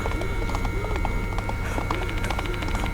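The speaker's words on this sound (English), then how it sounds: "The horse footsteps were getting closer and closer" Hoofbeats of a horse in the video game Spirit Hunter: Death Mark II clop in a steady galloping rhythm over droning ambient music, close and continuous.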